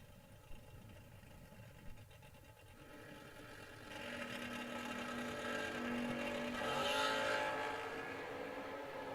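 Drag racing cars at a spring bracket race meet, engines droning from a distance and then swelling into a louder whirring rush as they launch and pull away.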